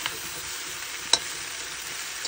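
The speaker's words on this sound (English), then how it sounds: "And then I brown those first with the fresh turmeric and get them brown." Cubed tofu browning in a pan with fresh turmeric gives a soft, steady sizzle, with one sharp tick of a utensil near the middle.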